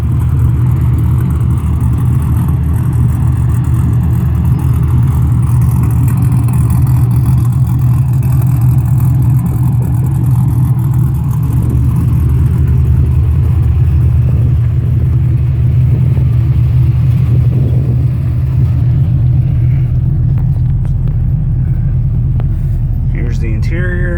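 A V8-swapped Mazda RX7 from about 23 years back idles after a cold start, a deep steady low rumble running loud and close throughout, with faint background noise and no clear talk.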